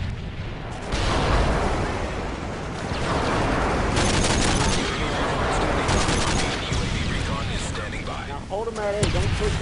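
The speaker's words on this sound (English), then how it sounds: "Enemy airstrike approaching." Enemy airstrike in Call of Duty: heavy, continuous booming and crackling blasts roll on for several seconds, loud and dense, with gunfire-like bursts and players talking over it.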